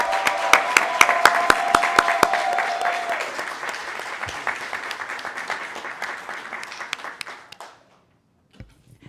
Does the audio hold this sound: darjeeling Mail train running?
no